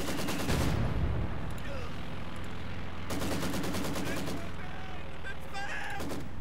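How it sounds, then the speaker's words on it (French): Gunfire in the World War II strategy game Company of Heroes 2, rapid machine-gun bursts and distant shots over a dense battle din, with faint voices in the mix. "On essuie des tirs!"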